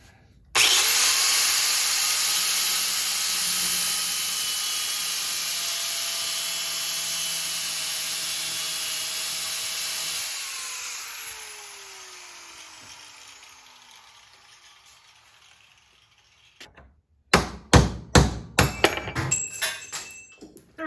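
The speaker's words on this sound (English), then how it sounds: "Let me actually put this into the vise and then get back to you." A power tool whines loudly on a Triumph Spitfire differential part clamped in a vise during a seal replacement, then slowly winds down to quiet, followed by several sharp metallic knocks and clanks.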